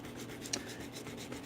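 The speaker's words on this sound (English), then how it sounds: "this is one of my favorite parts of doing gold inlay, is sanding off all the rough bits" Soft, scratchy rubbing of fine sanding on a small gold inlay, faint and steady, ending in a brief louder knock.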